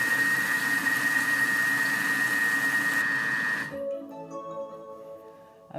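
A Thermomix TM6 whisks a chocolate cookie mixture at speed 4, a steady loud mechanical whir with a high whine that cuts off abruptly partway through, leaving faint clinks and quiet rattles.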